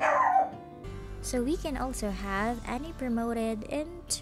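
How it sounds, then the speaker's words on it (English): A pet dog gives high whimpers and short yips close by, heard over steady talk from a mobile-game session. "That's my dog."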